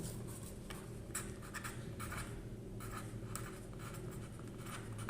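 Pen scratching on paper while a teacher writes out math answers for a class 9 exercise on irrational numbers, steady soft strokes with brief bursts, close and continuous, no talking.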